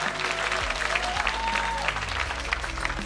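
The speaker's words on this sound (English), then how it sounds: "Can we have a big, big, big round of applause?" An audience at an award presentation gives a loud, sustained round of applause, with dense clapping throughout and a few voices mixed in under it.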